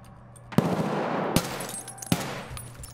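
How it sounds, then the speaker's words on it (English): Gunfire in the video game Escape from Tarkov: three sharp, loud shots spaced about a second apart, each trailing off in a rumbling echo, heard without talk. "Shooting at you or me?"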